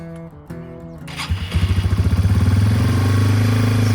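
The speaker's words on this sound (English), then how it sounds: "here's a cold start in freezing temperatures." Yamaha TW200 motorcycle cold-starting in freezing temperatures: a starter whir and cranking, then the single-cylinder engine catches with rapid thumping pulses and settles into a loud, close, steady idle.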